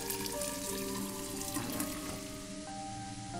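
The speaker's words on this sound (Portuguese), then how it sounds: "Se eu abrir a torneira, talvez saia água." In the Fran Bow game, water runs from a tap into a pot as a steady, close splashing stream with faint tonal hums beneath it and no voices.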